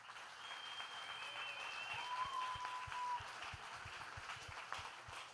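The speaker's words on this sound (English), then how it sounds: "one last round of applause for these guys" Audience applause at a university digital arts and design graduate showcase, a steady dense wash of clapping with some sharper individual claps and faint cheering mixed in, sustained throughout.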